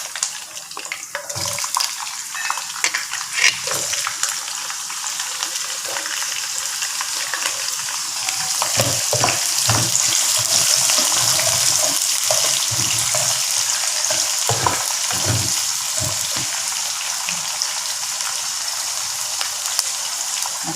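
Curry leaves and chopped onion fry in hot oil for a curry of dried salted fish and broad beans, a steady close sizzle with occasional stirring knocks and bursts throughout.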